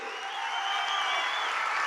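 A packed hall fills with dense, sustained audience applause, loud and even throughout, with no speech over it.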